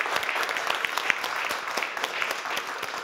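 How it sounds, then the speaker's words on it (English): Audience applause for a panel discussion at a climate and parenthood talk event, a steady, dense clapping from a full room sustained throughout without a break. "let's give a big round of applause for our panel today"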